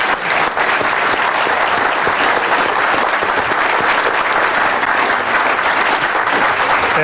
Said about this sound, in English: I would like you all to just join me in a round of applause for our panel here.